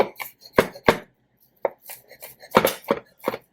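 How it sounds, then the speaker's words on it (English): A knife chops food on a cutting board for a salsa verde and chilaquiles dish, with close, sharp irregular thuds coming in small clusters separated by brief pauses. "And you can chop it up a little bit so they are not too big."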